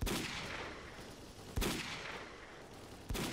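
Gunfire from S.T.A.L.K.E.R.: Call of Pripyat as the player shoots at mercenaries: three loud, sharp shots or short bursts roughly a second and a half apart, each trailing into a long, noisy, echoing tail.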